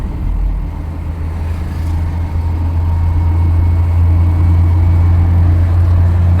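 A Land Rover in fourth gear pulls steadily at around 1,200 rpm while gathering speed, its low engine drone holding constant and slowly swelling in loudness from inside the cab, with no talking.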